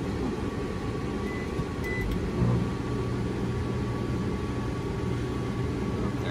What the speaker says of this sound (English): now let's turn that microwave back on and see what happens